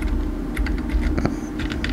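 Rapid keystrokes on a computer keyboard while typing a command into a Windows Run box, a steady run of close, crisp clicks lasting throughout.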